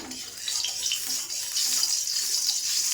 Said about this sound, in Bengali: এই তেল দিচ্ছি, দেখতেই পাচ্ছ যে কড়া গরম